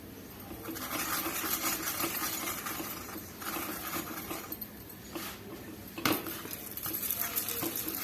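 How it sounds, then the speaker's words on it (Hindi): Lauki paratha cooking in ghee on a hot pan over a medium flame, a continuous frying sizzle with scattered scraping and clinking of a utensil against the pan. "अब हम घी डाल देंगे पराठे के ऊपर।"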